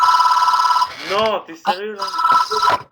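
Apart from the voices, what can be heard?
telephone ringing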